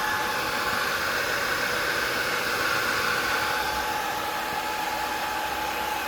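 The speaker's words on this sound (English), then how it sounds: "Ooh, listen to those fans." Cooling fans of a FutureBit Apollo II Bitcoin miner whir at full speed in a steady, close airy rush with a faint tonal hum, unchanging throughout.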